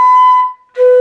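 A brass instrument plays a high note with a tensed jaw, giving a thin, whistle-like tone that holds, breaks off briefly, then returns.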